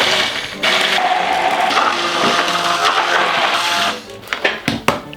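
A kitchen machine whirs steadily for several seconds while blending dip ingredients with peanut oil, then the motor cuts off and a few short knocks and clatters follow.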